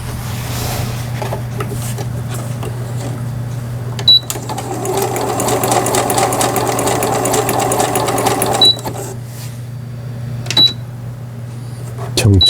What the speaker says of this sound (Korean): 정중앙에서 바느질.